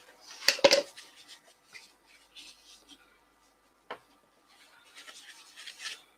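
Yorkshire Grit abrasive paste rubbed by hand into a cherry branch mounted on a stationary wood lathe, giving a sharp scratchy burst early on, then light intermittent rubbing strokes and a click, close and fairly quiet.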